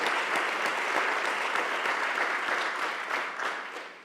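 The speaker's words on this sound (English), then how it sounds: "So can we give our board a round of applause" Dense audience applause in an auditorium for a school board, many hands clapping at once in a loud, continuous wash that fades slightly toward the end, no speech over it.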